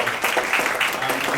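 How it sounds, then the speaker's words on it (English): An audience applauds a speaker coming on at the end of a day's learning session: dense, steady clapping from a crowd, brief and fairly loud, with no pauses. "Give her a round of applause."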